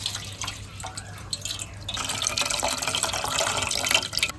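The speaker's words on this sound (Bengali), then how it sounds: "তো এখন ডাবটা একটু আমি ছেঁকে নিই, অনেকটা জল হবে।" Coconut water pours from a pierced green coconut through a strainer, a soft trickling and dripping that builds into a steadier, brighter splashing stream after the first couple of seconds, close by with no talk.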